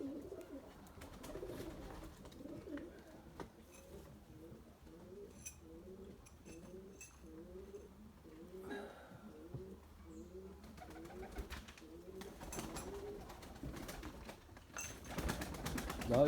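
Young pigeon, a chick of a white Candır breed, coos steadily in a repeating throaty rhythm close by, with a few faint wing flutters and clicks near the end.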